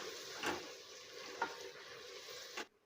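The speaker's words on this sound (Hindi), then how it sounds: "गोश्त हमारा फ्राई होना शुरू हो गया है।" Meat frying in a pan with whole garam masala and cumin for a chana dal gosht: a steady soft sizzle, broken by three brief stirring scrapes, ending abruptly.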